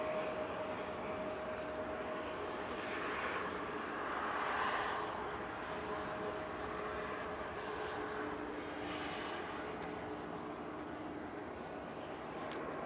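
An Aer Lingus Regional airliner arriving from Dublin into Manchester Airport makes a faint, distant engine rumble that swells gently and fades under a low steady hum.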